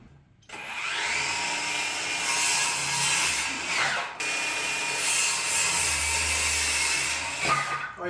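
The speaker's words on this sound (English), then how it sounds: "get it cut down with our saw here" A saw cuts through a wooden stud on a workbench, a loud, steady rasping cut that pauses briefly midway and then runs on in a second pass, with no talking.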